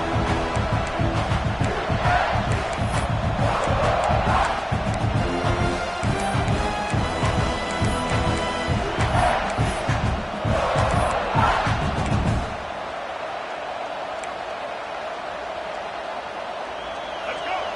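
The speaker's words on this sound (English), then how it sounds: "And the crowd coming to life here, trying to help this defense down in the red zone." A college football stadium crowd roars loudly and continuously during the final play in the red zone, then drops off sharply toward a quieter murmur near the end.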